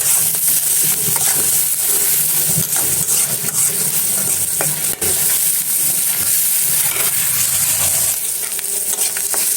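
Onions and prawns sizzle together in a hot pan with salt, turmeric and chili powder, a loud, steady frying hiss running throughout, close up, with occasional stirring scrapes and no talking.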